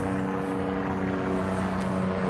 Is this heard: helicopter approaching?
yes